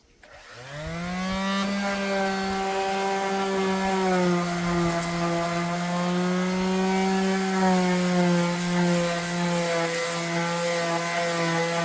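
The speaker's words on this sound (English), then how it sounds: "I want to take a shot at sanding that door" A continuous droning, humming rasp of a wooden door being sanded, rising in pitch at the start, then holding steady and loud for over ten seconds with no speech.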